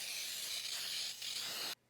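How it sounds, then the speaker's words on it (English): Baker's Joy baking spray, shortening and flour in one, is sprayed into a cake pan as a steady close hiss that runs almost two seconds with a brief dip before stopping abruptly. "what we're going to use is this thing called Baker's Joy. And this is shortening and flour in one. Oh. Spray that up."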